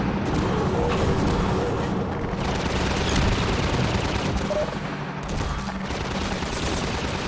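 Gunfire in Half-Life 2, dense continuous bursts of shots and rattling automatic fire filling the whole stretch, loud and close with no let-up.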